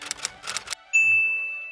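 A bright notification bell dings once, clear and close, with a sustained ringing tone that slowly fades, following a short burst of clicking and tapping.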